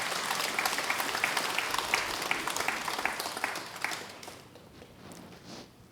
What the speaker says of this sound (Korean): 박수를 본인한테 한번 쳐봐요